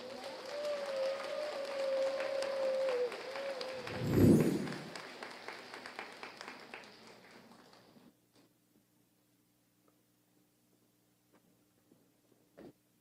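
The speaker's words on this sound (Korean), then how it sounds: "기쁨의 박수로 모시겠습니다" Audience applause in a hall welcoming a priest to the stage for a lecture at a Catholic Holy Spirit gathering, steady clapping for several seconds with one louder burst, then fading into near silence.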